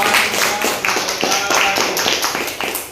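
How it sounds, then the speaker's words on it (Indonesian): Clapping from a class audience after a group presentation at a university teacher-training session, a loud, close patter of many hands with a faint voice underneath. "Oke, tepuk tangan untuk kita semua."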